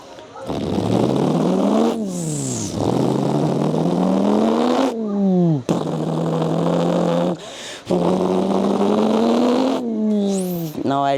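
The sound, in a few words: kid imitating a V8 Mustang engine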